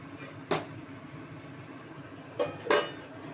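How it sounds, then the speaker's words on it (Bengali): A metal lid clanks onto a cooking pot of cauliflower curry, with one sharp clink followed by two more quick contacts as it settles, close and fairly distinct against quiet kitchen background. "এবার একটু ঢাকা দিয়ে দেবো কিছুক্ষণের জন্য।"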